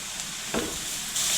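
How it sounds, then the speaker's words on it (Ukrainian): Onion and carrot fry together in a pan, a steady broadband sizzle heard close up with a brief stirring scrape partway through. "Цибулька злегка підсмажилася, сильно зажарювати я її не буду. Додаю моркву обсмажу разом."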